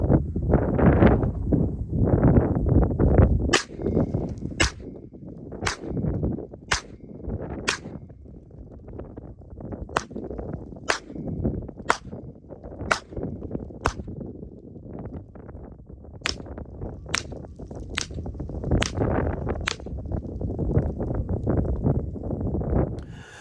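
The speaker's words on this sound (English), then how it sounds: "shot 5 rounds of 115 grain, 5 rounds of 124, and then 5 rounds of 147 subsonic" A Sig Sauer MPX 8-inch PDW firing 115, 124 and 147 grain subsonic rounds outdoors, about fifteen sharp evenly spaced shots in three groups over a steady background rumble.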